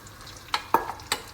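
Onions and garlic stirred in hot oil in a pan, which had earlier been used to fry carrots, for a fish fillet dish: a soft background sizzle broken by a few sharp utensil scrapes and taps up close.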